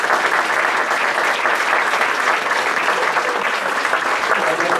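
A crowd applauds at a political party's autumn dinner, a sustained, even wash of many hands clapping from start to finish without a break.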